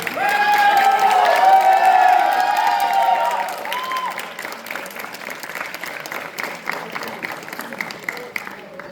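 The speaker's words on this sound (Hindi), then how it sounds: "तो जोरदार तालियों से स्वागत कीजिए स्वदेश का।" An audience at an Independence Day poetry gathering at NIT Rourkela bursts into loud, dense applause with some cheering, which thins after a few seconds into scattered clapping while a voice carries on over it.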